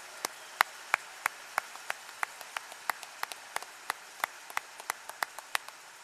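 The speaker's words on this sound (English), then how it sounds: "let's give this group a big round of applause for all that they've done to prepare our graduates to be here today" Audience applause at a university graduate commencement ceremony, honoring the faculty: a steady spread of individual claps, light and fairly sparse, with sharp distinct hand strikes continuing throughout and no talk over it.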